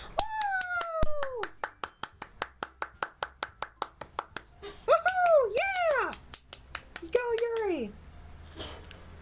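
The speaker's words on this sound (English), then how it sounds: "I'm the first to start applauding." Applause sound effect from the visual novel game Doki Doki Literature Club: a run of crisp, evenly spaced single claps, with a voice speaking in sliding, expressive tones partway through.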